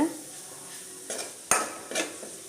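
Curdled spoiled milk is stirred in hot ghee in a pan. Three or four quick scraping strokes of a spoon against metal sound close over a faint, steady sizzle.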